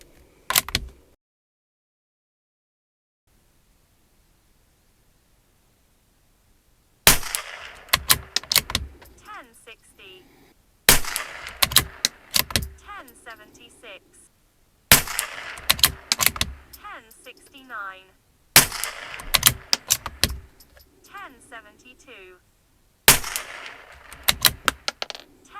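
Tikka T1X rifle firing RWS Club rimfire ammunition at a range: after a silent stretch, a series of sharp cracks in separated bursts, each followed by mechanical clicks and handling noise.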